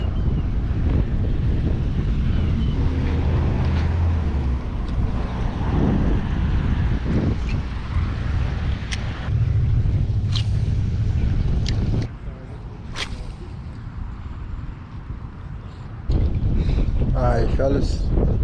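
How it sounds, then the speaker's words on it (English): Wind gusts steadily across an open pond during bass fishing, a loud rushing buffet against the microphone that eases briefly near the end. A voice speaks in the background. "The wind's starting to pick back up"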